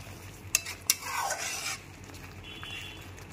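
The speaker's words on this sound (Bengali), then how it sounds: "গ্যাসের ফ্লেমটা এখানে মিডিয়ামে রেখেই কষাবো।" Stirring cashew-paste masala in a pan over a medium flame for dahi potol: two sharp utensil clacks against the pan, then a soft scraping sizzle of paste being stirred, close and moderately loud, no talking.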